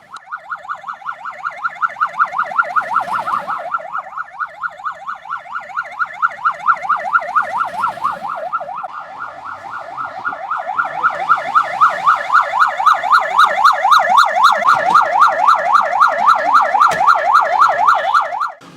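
An ambulance siren wails loud and close, a continuous rapid rising-and-falling electronic warble that grows stronger toward the end, with no talk over it.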